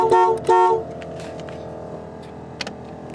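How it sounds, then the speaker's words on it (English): Two short loud air horn blasts close together, then quieter background hum, followed by a brief faint toot of the regular horn on a 1976 GMC motorhome. "I hit the horn. That's the air horn, and here's the regular horn."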